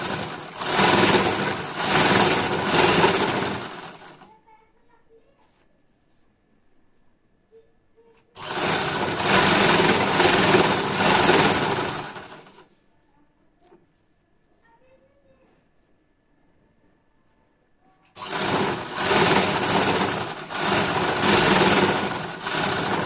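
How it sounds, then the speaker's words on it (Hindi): A sewing machine runs in three long bursts while stitching thick cord for a sleeve design, its motor a loud, close, steady whir, with near silence between the runs. "जितनी भी मोटी आपको डोरी चाहिए उतनी ही पे सिलाई लगा सकते हैं।"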